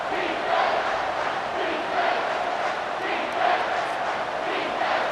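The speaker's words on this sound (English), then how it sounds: "this crowd will blow out a vocal cord to help this defense" In College Football 25, a stadium crowd roars in a sustained, dense wall of cheering and chanting during a third-down defensive stand, swelling in gentle waves with no clear talk over it.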